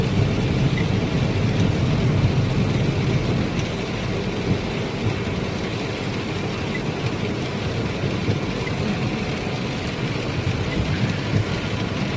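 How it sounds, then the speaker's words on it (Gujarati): Heavy rain on a highway, a dense, loud, steady roar of downpour with a continuous low rumble throughout and no voices. "વરસાદ ફૂલ ચાલુ હતો"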